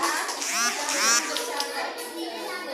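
Schoolchildren in a classroom clap for a student group while their excited voices chatter and call out over the applause, a lively, close mix of clapping and children's speech.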